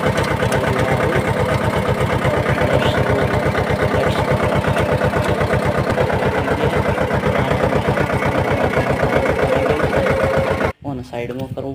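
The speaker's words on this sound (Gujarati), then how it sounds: "આ રહ્યું આપણું ટ્રેક્ટર ચાલુ કરી." A tractor engine runs at a steady idle, its rapid, even diesel chugging close and loud for about eleven seconds before a brief clunk and a change in tone near the end.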